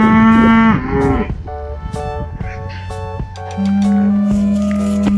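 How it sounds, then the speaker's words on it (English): Cattle mooing loudly in the morning, several long, deep moos from more than one cow, one starting the clip and another near the end, with quieter lowing and a faint dog bark between. "you can hear the moo-moos in the background"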